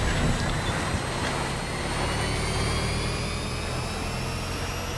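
Motorcycle engine in the video game Death Stranding, a steady, dense roar with a high whine gradually rising in pitch, loud and continuous throughout with no pauses.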